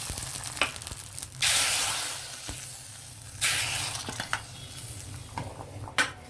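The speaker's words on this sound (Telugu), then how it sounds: "మళ్ళీ సాంబార్ ఇక్కడ పెట్టుకొని ఇందులో తాలింపు పెట్టేస్తాం" Tadka tempering sizzles loudly as it hits hot sambar, with sharp bursts of frying hiss over a steady simmer, plus a few clinks of a pot and spoon.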